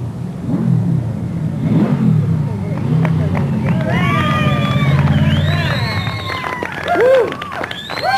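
A Yamaha Vmax motorcycle returns after a record drag-racing run, its engine rumbling low beneath a commentator's voice and crowd noise, with some whistling tones rising toward the end.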